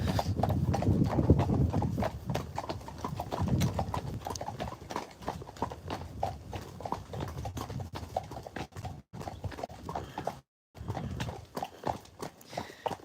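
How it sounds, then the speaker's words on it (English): Friesian horses' hooves clip-clop steadily through a live ride and lead, the hoofbeats fairly close and continuous with a brief drop-out partway through. "they are beautiful horses"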